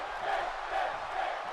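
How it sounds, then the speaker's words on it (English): Arena crowd in the wrestling video game WWE 2K18 cheering for Finn Bálor on SmackDown Live, a steady, dense wash of voices and whoops held at an even level throughout. "This crowd can try and cheer on Finn Bálor all they want"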